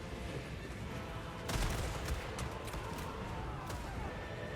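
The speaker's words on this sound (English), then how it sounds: "they've just been strafing them with fire" Deck droppers strafe with rapid gunfire in Total War: Warhammer 3, a dense crackling barrage of shots at moderate distance, swelling briefly midway then carrying on as a continuous rattle.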